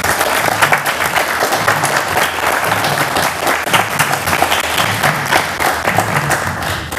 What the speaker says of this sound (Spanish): quiero pedir un aplauso para ellos porque sin esto no hubiera sido posible